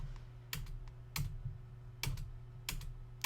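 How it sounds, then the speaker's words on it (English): Keys on a computer keyboard are pressed in a few sparse, separate taps, quiet and close, set against a faint low hum. "I'm going to hit this W key."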